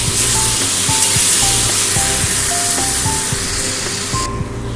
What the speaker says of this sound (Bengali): কাজু আর টক দইয়ের পেস্টটা দিয়ে দেবো। ভালো করে এর সঙ্গে আমি মিশিয়ে নেব।